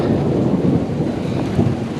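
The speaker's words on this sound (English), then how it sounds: "Still thundering." Loud, continuous thunder rumbles low and heavy during a storm beside a house, mixed with the hiss of falling rain and no speech.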